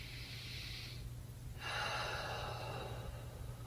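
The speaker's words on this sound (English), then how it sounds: "Deep breaths." Slow, deep breathing in a calm yoga session as the body settles after arm balance and inversion prep work, a soft airy inhale followed by a broader, fuller exhale, close and steady over a low background hum.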